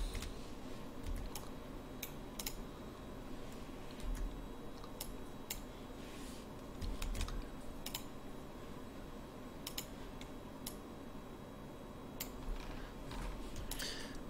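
Keyboard keys are pressed in scattered, sparse clicks during 3D modeling work, with single taps and small clusters spread across a quiet background hum. No one speaks.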